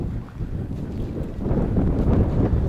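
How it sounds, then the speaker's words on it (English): Strong seaside wind buffets a microphone with a worn foam-and-rubber-band windscreen, producing a continuous low, rumbling roar that swells louder toward the end. "It's really windy here"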